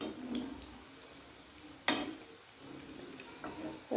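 Small pieces of kachori dough frying in hot oil, a soft, steady sizzle with a sharper crackle or clink near the middle and a few faint pops, quiet throughout with no voices.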